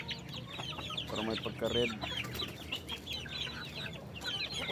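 A native hen clucks and chatters repeatedly close by, soft rhythmic clucks with some louder bursts, while a person talks over it.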